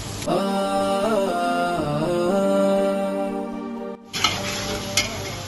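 Tomatoes with mint fry and are stirred in a pan, a loud constant sizzle layered with a sustained ringing tone, then a brief pause followed by metallic clinks of stirring against the pan.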